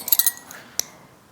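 A metal teaspoon clinking against a bowl while adding sugar to pizza dough mix, a few quick light taps followed by one sharper clink, close and fairly quiet with no talking.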